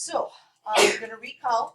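A single sharp sneeze bursts out in a pre-calculus classroom, brief and fairly close, between stretches of a teacher speaking.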